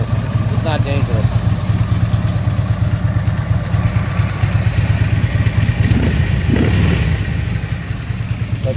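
A worn primary shaft bearing makes the engine of a 2010 Harley-Davidson Ultra Limited motorcycle rattle and clatter steadily as it idles, with a brief rev near the end, loud and close throughout.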